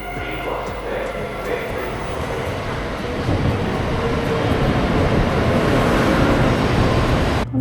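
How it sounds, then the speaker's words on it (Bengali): Aboard a bullet train heading back to Tokyo, a steady loud rushing rumble of the train at speed fills the cabin, swelling slightly louder midway and continuing without pause. "এখন আবার বুলেট ট্রেনে করে টোকিও ফেরত যাচ্ছি।"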